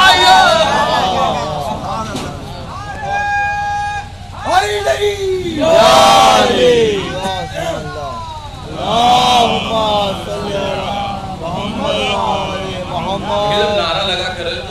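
A crowd at a Muharram procession shouts a religious slogan in repeated loud surges of massed voices, rising and falling over a constant low hum of the gathering outdoors.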